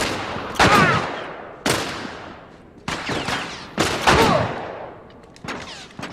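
Gunfire in The Last of Us: four or five loud, sharp gunshots come at irregular intervals of about a second, each with a long echoing decay, close and dominant with no talk.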